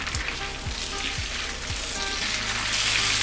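Vegetables sautéing with chicken in a hot pan for a spicy garlic stir-fry, a loud continuous sizzle with a few quick stirring scrapes near the start.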